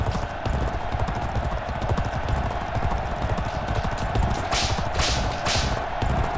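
Racehorse hooves gallop in a steady, rapid clip-clop rhythm throughout a race in the video game G1 Jockey 4, close and loud over a constant crowd and music bed, with a few brief whip-like hiss bursts near the end.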